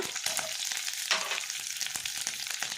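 Mustard seeds, curry leaves and dried red chillies crackle and spit in hot oil for a tempering, a dense run of sharp pops over a steady close sizzle, with no talking.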